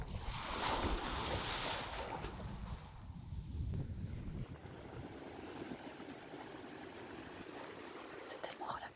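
Ocean waves wash in steadily with gusty wind buffeting the microphone, a loud continuous rush that eases slightly toward the end.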